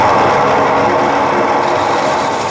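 Woodturning lathe rounding a manzanita burl bowl, a loud continuous motor whine with a steady broadband cutting roar, close and unbroken throughout, no talking.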